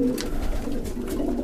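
Pigeons in a loft housing young birds coo steadily and close by, a low continuous murmur of overlapping calls with soft wing and shuffling noise throughout.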